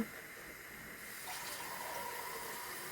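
Steady rush of water pouring into a pot for fish soup, a continuous hissing splash that holds even throughout with no voices.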